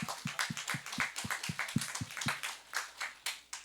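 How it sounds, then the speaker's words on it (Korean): A church congregation clapping during a Sunday worship service, a series of sharp, evenly spaced claps in a steady beat, about a dozen in quick succession, then a few slower, spread-out claps to finish. "이때 우리 주님께 박수 한번 해야 돼요"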